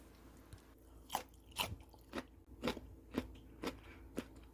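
Crisp bites and crunchy chewing of a whole frozen cucumber come in about seven distinct, evenly spaced crunches, close and fairly quiet with no talking.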